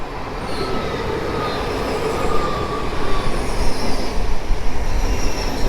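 An ED250 Pendolino bound for Kraków Główny pulls away from Warszawa Zachodnia station, a broad rumbling roll that builds in loudness, with faint wheel squeals over the rising din.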